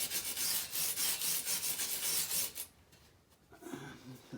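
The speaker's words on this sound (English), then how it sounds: "So I'm gonna take a wire brush right now. Wire brush it a little bit, scuff up the paint, get any slag off of it." A wire brush scrubs paint and welding slag off freshly welded metal light-bar mounts on a 2019 Polaris Ranger XP1000, in loud, fast rasping strokes that stop abruptly partway through, leaving quieter handling noises.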